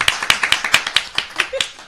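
Clapping welcomes a doctor in a morning TV studio, a handful of sharp, distinct hand claps in a steady rhythm, close and fairly loud, with a brief voice near the end.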